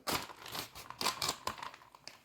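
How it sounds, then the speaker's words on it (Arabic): A plastic bag of detergent powder is torn and crinkled open at close range, several sharp rustling bursts in quick succession with no talk. "بتجيبي الكيس وتفتحيه"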